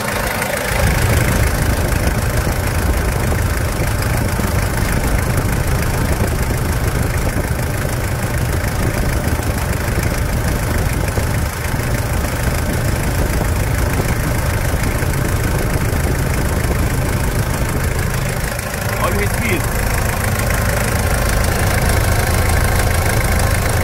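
1997 Toyota SW4 with a 3.0 turbo engine idling, a loud steady close rumble with a faint ticking knock running unbroken throughout, no talk.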